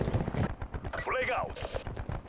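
Automatic burst gunfire in the battle royale mode Blackout of Call of Duty Black Ops 4, rapid crackling shots mixed with game effects and a voice talking throughout.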